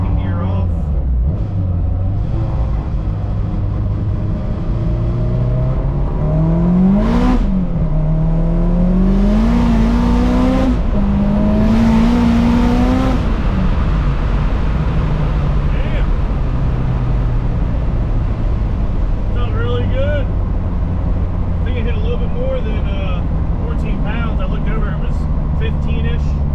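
A car with a new alternator revs hard through second gear, its engine note climbing in rising sweeps before settling back to a steady rumble, loud and close with a voice talking over parts of it.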